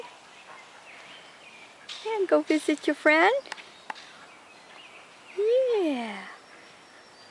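White and brown ducks and geese calling at close range, a burst of rapid harmonic honks and quacks followed by one longer drawn-out call, with people talking nearby.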